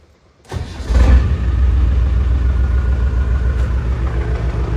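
Land Rover Defender 90 with a tuned 300Tdi diesel engine turns over and fires after a short crank, then settles into a loud, rough, rumbling idle close by.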